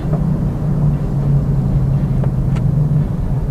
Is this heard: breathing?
no